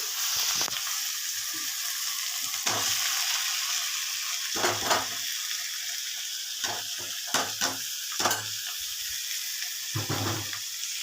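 Chili powder, sugar, turmeric, ground coriander and cumin frying in a pan, a steady loud sizzle with intermittent scraping stirs and clatters of a spoon, close up, no talking.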